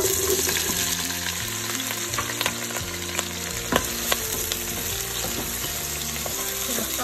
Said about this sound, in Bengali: এখন আমি পেঁয়াজটা চেড়ে দেব